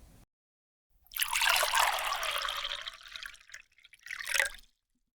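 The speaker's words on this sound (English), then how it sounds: "gasoline is poured into the tank at the bottom of your car" Gasoline pours into a car's fuel tank at a gas station, a steady close liquid trickle and gurgle lasting a few seconds, then a brief second splash before it stops.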